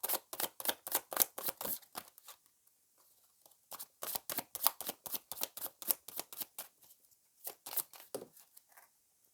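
Tarot cards shuffled by hand, rapid bursts of crisp riffling flicks in quick runs separated by short pauses, close and fairly soft.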